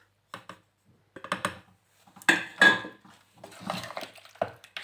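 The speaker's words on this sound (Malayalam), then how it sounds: "നന്നായിട്ടൊന്ന് മിക്സ് ചെയ്തെടുക്കണം." A spoon stirs spice powder into mutton curry in a cooking pot, giving scattered scraping and clinking strokes in short irregular bursts, close and moderately loud with no talk.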